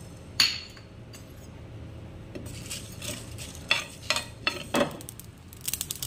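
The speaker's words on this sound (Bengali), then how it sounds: "এই চাটুতে একটু কয়েকটা শুকনো লঙ্কা ভেজে নেব।" Dried red chillies dry-roasting on a griddle, a soft crackle under sharp scraping and clinks of a utensil against the metal pan, several distinct knocks spread across the moment.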